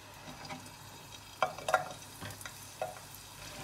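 Garlic and a medium onion sauté in olive oil for cream of broccoli soup, a soft steady sizzle broken by a few sharp scraping clicks of stirring, close up with no voices.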